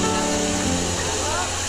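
Waimea waterfall rushes in a steady, loud broadband roar throughout this short moment, with a voice talking over the falling water.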